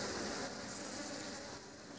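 Honey bees buzz around a beehive frame during beekeeping, a faint, continuous droning hum of many insects close by with no break.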